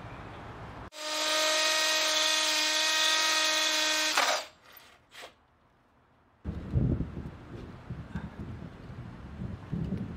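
A drill drives flathead Tapcon concrete screws through pressure-treated wood into concrete block, one loud steady whine lasting about three seconds, followed by brief knocks and then outdoor wind noise.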